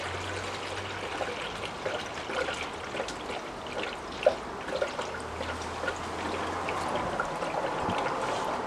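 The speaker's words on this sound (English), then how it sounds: "Alright, now we add the coolant." Coolant poured through a spillproof funnel into the radiator of a third-generation Acura Integra, a steady low trickle and gurgle of liquid running continuously, fairly faint, with a few small drips and clinks on top and no talking.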